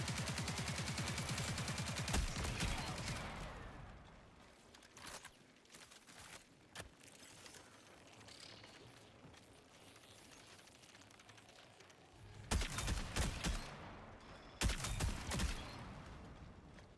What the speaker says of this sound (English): Saw gunshots from over here too.